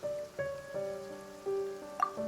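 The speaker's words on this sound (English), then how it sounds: "Yet today, the downpour arrived on schedule." Rain falling steadily in the Genshin Impact video game, a soft, constant patter on surfaces heard up close. Sustained tonal music notes sound over it.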